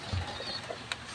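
Pigeons on a terrace during rain give a couple of brief, soft, low coos close by over a faint background wash.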